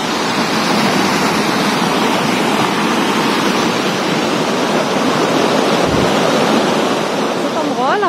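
Steady, loud rushing water fills the whole clip, a continuous broadband wash like a river flowing close by in Doi Inthanon National Park, Chiang Mai, Thailand, with a faint whistle near the end.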